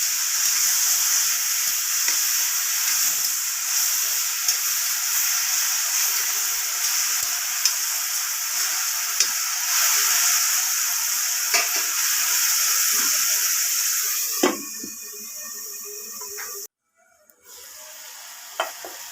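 Home-grown mushrooms cook in a covered pan, giving off a steady, close sizzle and hiss that holds evenly, then turns quieter near the end with a few sharp knocks.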